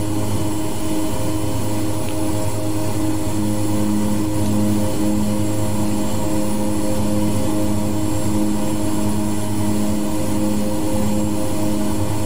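De Havilland Twin Otter propeller plane climbing in flight over Alaska, heard from inside as a loud, steady drone of twin turboprop engines with constant propeller hum filling the whole stretch.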